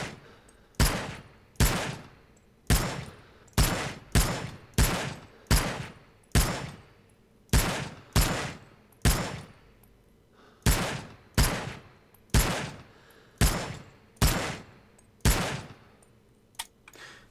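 M14 rifle shots in Rising Storm 2: Vietnam, about two dozen loud, sharp single cracks fired in an uneven semi-automatic rhythm, each with a short decaying tail, with no talking.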